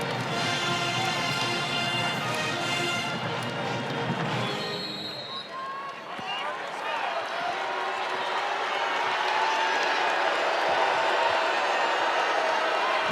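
Crowd noise at a Notre Dame vs Louisville women's college basketball game rises to a broad, sustained roar of cheering in the second half. Before that come arena music and a commentator's voice.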